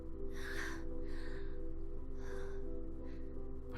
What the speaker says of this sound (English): Okay, she's heavy breathing.